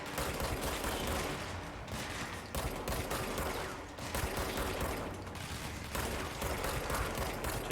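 Rapid bursts of gunfire in the video game Control, dense and loud, with repeated volleys broken by short pauses and mechanical clatter.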